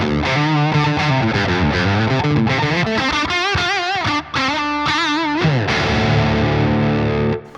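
An electric guitar through a crunch amp simulation plays a lively phrase of bends and chords with a gritty, moderately overdriven tone, loud and continuous, with no voice.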